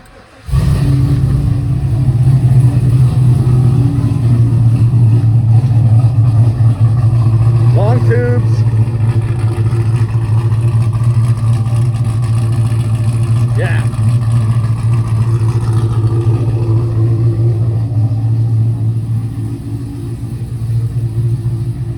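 A 2019 Chevrolet Silverado engine, warmed up, idles steadily in a shop with a deep, loud, constant rumble and a couple of brief higher sounds partway through.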